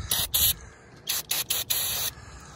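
Aerosol spray can spraying under a Dodge Ram 1500 pickup during stalling repairs, several short loud hissing bursts of varying length separated by brief pauses, close to the microphone.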